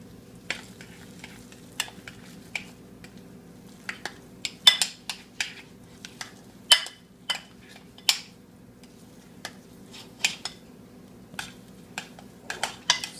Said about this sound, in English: Mix it until you don't see any flour just floating around.